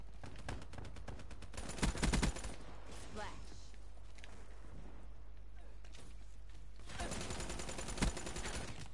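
Rapid automatic gunfire bursts in the Call of Duty: Black Ops 3 video game, loud and dense at the start and again near the end, with quieter stretches between volleys.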